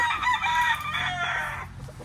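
A Kelso stag rooster crows once, loud and close, a drawn-out call lasting about two seconds.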